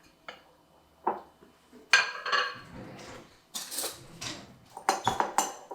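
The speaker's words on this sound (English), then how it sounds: "So all I'm going to do is stick this all into this great big bowl and mix it all together." A utensil scrapes and clinks against a big bowl while brown sugar, salt and spices are stirred together, in irregular bursts of clatter with short pauses between.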